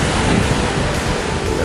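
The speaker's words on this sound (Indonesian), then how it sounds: "Peselancar di sana mengarungi laut yang luas." Ocean surf at Kuta Beach, Bali rolls in as a loud, continuous broadband wash with no breaks, close and steady, without any voices.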